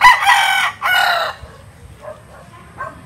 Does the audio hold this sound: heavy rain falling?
no